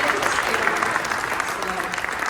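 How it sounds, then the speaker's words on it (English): A banquet audience at an aviation scholarship dinner claps steadily and fairly loudly, a thick wash of applause running the whole moment with faint voices mixed beneath. "First of all, a round of applause."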